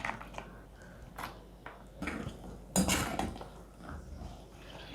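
Almonds and cashews dry-roasting in a pan over low heat, with a spatula scraping and clinking against the metal in scattered, uneven strokes, close by and fairly quiet.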